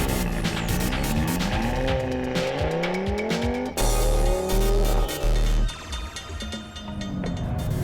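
An Audi RS3 with an all-wheel-drive five-cylinder engine, cornering hard on a race track, rising and falling through the revs as gears change, with tires squealing through the turn; loud and close.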